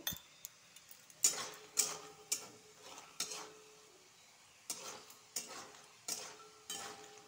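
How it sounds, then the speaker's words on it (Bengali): Fried potatoes being stirred with salt and turmeric in a pan for a banana flower curry, giving a run of separate scraping, clinking strokes with short gaps, close by and moderately loud, with no talking. "লবণ হলুদ দিয়ে নাড়াচাড়া করব"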